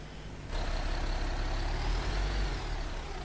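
A MAN Lion's City A37 articulated bus in OMSI 2 pulls away, its engine surging from a low idle into a steady, loud broadband roar with a deep rumble and a faint rising whine, no talk.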